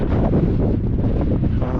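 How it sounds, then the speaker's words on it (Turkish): Strong wind buffets the microphone in a loud, low rumbling roar that gusts unevenly throughout, with nothing else audible. "Bak rüzgar nasıl ediyor."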